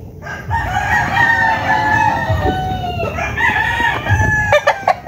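Several young roosters (stags) crow at a Philippine farm, overlapping calls rising and falling close by over a low murmur of other fowl, with a few sharp clucks near the end.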